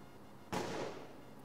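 A single sharp gunshot from a police shootout in the city, one sudden loud crack with a short decaying echo, standing alone against a quiet background.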